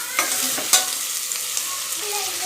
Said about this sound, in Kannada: ಈಗ ನಾನು ಚೆನ್ನಾಗಿ ಎಣ್ಣೆದಲ್ಲಿ ಸ್ವಲ್ಪ ಹೊತ್ತು ಫ್ರೈ ಮಾಡ್ಕೊತೀನಿ ಈ ಥರ ಚೆನ್ನಾಗಿ ಫ್ರೈ ಮಾಡ್ಕೊಳ್ಳಿ